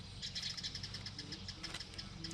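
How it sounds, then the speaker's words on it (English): Birds in a birdhouse feeding their young chirp in repeated high, thin tweets, fairly faint and steady against a constant low outdoor hum. "You can hear the birds in the birdhouse right behind me here."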